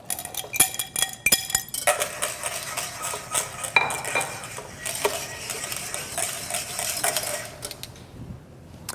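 A utensil stirs egg yolk custard mixture in a pot with constant scraping and clinking against the metal, busy and close, with a few sharper clinks early on, fading out at the end.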